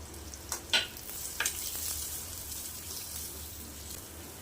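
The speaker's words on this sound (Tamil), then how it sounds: "இப்போ எல்லாம் நல்லா பொரிஞ்சதும் வெட்டி வச்ச வெங்காயத்தை சேர்த்து நல்லா வதக்கி விட்டுறலாம்." Chopped onions sauté in hot oil for a mussel curry, a steady soft sizzle running throughout with a couple of brief scraping stirs near the start; no voices.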